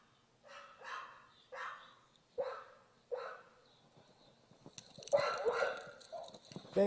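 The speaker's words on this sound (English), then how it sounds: "There are 22 dogs around my house." Several dogs barking around a house near pit bull breeding operations, a run of repeated single barks in a steady rhythm followed by a louder, denser burst of overlapping barking, fairly close with no talk.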